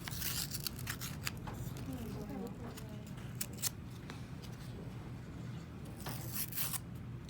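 Paper cup being peeled away from a block of ice, heard as soft scraping and tearing crackles in scattered bursts while a person talks over them.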